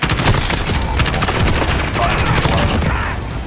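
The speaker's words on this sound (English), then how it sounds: "A perfect demonstration of the perfect flashbang." Rapid bursts of gunfire and booming blasts from a Modern Warfare video game match, dense and loud with continuous rattling shots, with a voice partly underneath.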